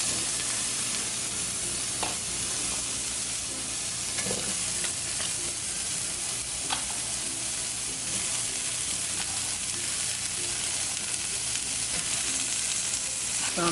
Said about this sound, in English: I'm just gonna go ahead and brown these up a bit.